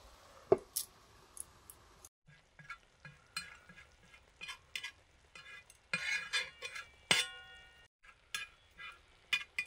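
A pan of egg curry topped with fresh coriander leaves gets a lid set over it: soft sizzling and stirring scrapes punctuated by a few sharp metallic clinks of the cover against the cookware.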